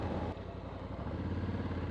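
Honda CRF1100L Africa Twin motorcycle engine giving a steady, low thumping drone close by while riding, a continuous rumble with no voices.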